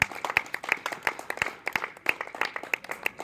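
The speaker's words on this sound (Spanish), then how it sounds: "Dale las palmas al Señor por su presencia" A church congregation claps rhythmically in praise, steady sharp handclaps in a fast regular beat, fairly close and continuous throughout, with no talking over them.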